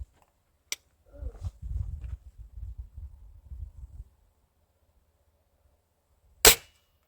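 An old pellet rifle firing twice, a sharp near crack at the start and a louder snap near the end, with a low mechanical rustle between shots.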